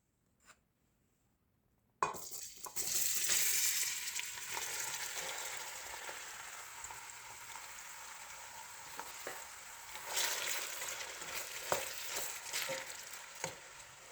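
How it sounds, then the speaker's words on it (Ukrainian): Onion sizzles steadily in hot oil in a saucepan, starting abruptly after a quiet moment and holding a fairly loud, close crackle with occasional light clinks and stirring scrapes throughout, with no talk. "Олія нагріється і будемо тушкувати цибулю."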